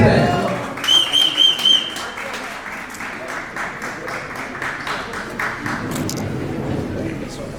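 Applause from a gala audience at the Arts and Culture Gala in Marrakech, a dense wash of many hands clapping that carries on while people talk over it.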